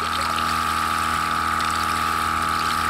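Hot water tap fed by an instant gas water heater running steadily, a constant loud rush of flowing water with a continuous pump-like hum and whine, close and uninterrupted, no voices.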